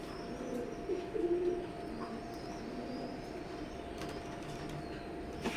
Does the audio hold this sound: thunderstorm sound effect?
no